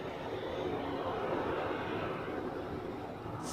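Pegasus Airlines Airbus A321neo airliner landing on runway 14 at Zurich Airport, a steady broad roar of engines and rushing air holding loud and close throughout with no letup.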